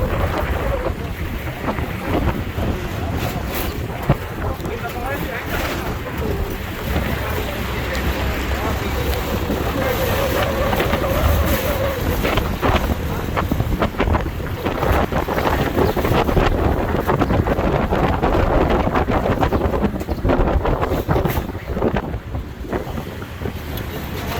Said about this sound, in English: It'll be interesting to see how the wind affects this Samsung 21S Ultra.